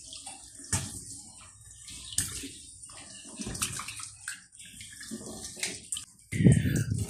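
Catfish being rinsed by hand under running tap water in a sink, with steady splashing and gurgling, sporadic handling knocks, and a louder splash near the end.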